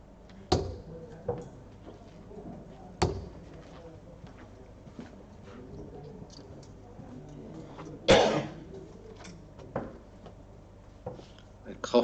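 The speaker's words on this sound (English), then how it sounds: "A cough there." A few sharp coughs break out in a quiet room at a professional darts tournament, one louder and closer than the others, with faint murmuring talk between them.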